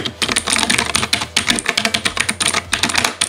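Fast typing on a Zebronics ZebMax Ninja 61-key wireless mechanical keyboard with blue switches, crisp clicky keystrokes in quick irregular bursts, close and clear with no voices.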